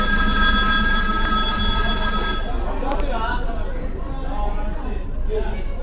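The Latur–Mumbai Superfast Express pulls out of Dharashiv station, with a rumbling, rolling train and a ringing tone early on, heard close by under someone talking.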